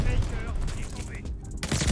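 Combat shotgun fire in Call of Duty: Vanguard, dense booming gunfire with rapid overlapping blasts filling the short moment, while someone speaks over the shooting.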